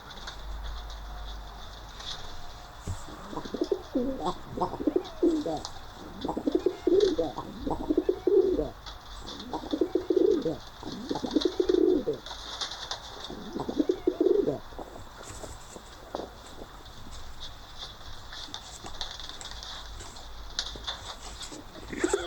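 Pigeons cooing repeatedly in soft, rhythmic phrases over a steady background hum, close by, with no voices.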